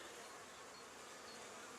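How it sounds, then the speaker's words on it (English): Bees buzz at a hive in a dense, continuous hum, a faint steady swarm of many wings close by, with no talking. "Good number of bees there."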